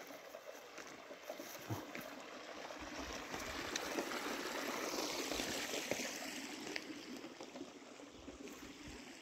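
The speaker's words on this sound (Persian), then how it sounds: "و اینجا هم با صدای آب" A stream flows nearby with a steady rushing, trickling wash that swells slightly mid-clip, heard outdoors on a walk with no talking.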